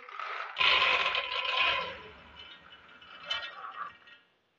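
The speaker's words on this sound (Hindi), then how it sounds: "अभी हम कुकर ले लेंगे," Metal pressure cooker picked up and handled in a home kitchen for cooking chickpeas, giving close clinks and scrapes in two bursts, the first louder, then fading to quiet.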